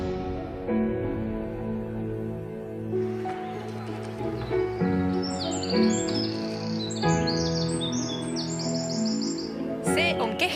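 Birdsong with high chirps and tweets playing as the soundtrack of an art video showing painted artwork, heard continuously over a layered tonal background with a sharp burst at the very end.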